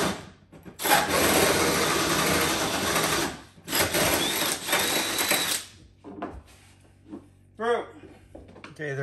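Power sanding smooths the edges of a freshly drilled hole for toilet drain plumbing, in two long, loud grinding bursts followed by quieter scraping and clatter, with a brief voice near the end.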